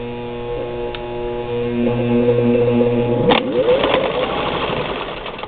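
A 1952 Singer 15-91 sewing machine runs on its electric motor with a steady, close humming drone that shifts into a busier, rattling whir partway through, with no talking.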